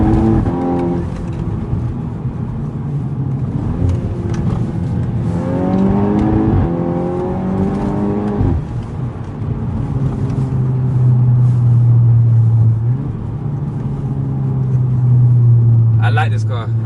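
A Mercedes W204 C63 drives along, its engine rumbling and rising in pitch through acceleration before settling into a steady low drone, with someone talking over the engine noise.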